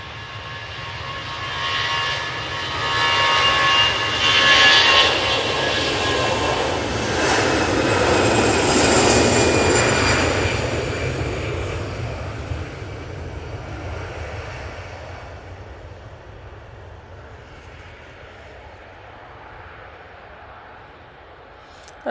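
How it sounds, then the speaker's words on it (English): An easyJet airliner takes off for Malaga at Manchester Airport, its jet engine roar swelling close and loud with whining tones, peaking midway, then fading steadily into the distance. "And that Easyjet is off to Malaga"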